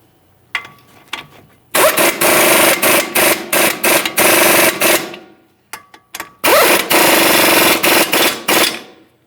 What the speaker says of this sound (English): 24mm nuts for each of these. We'll snug these up and torque them to